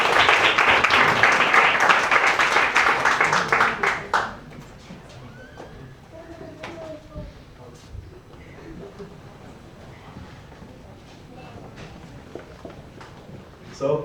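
A crowd at a panel session at the Expo 2020 exhibition in Dubai applauds loudly for about four seconds, then the clapping dies to scattered taps and faint room noise with some murmuring.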